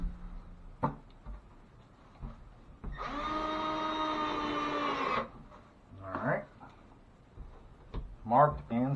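A cordless drill drives a 1.25-inch screw through half-inch sheetrock into a wall stud in a bathroom. It makes one steady, whining run of about two seconds, with clicks and brief handling noises before and after.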